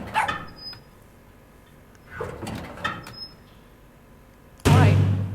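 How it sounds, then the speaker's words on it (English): A small dog barks in The Confessional Booth video game: a few short yaps spread across several seconds, fairly close, with a louder, heavier burst of noise at the end. "It's a cute little dog."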